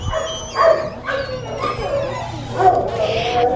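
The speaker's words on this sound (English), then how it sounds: "I'm going to take you now into our dog kennel, which is really noisy" Several dogs bark and yip in a noisy SPCA kennel, overlapping calls with a whimper or howl mixed in, loud and close.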